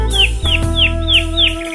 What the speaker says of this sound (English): I did manage to grab myself the canary while I was in there.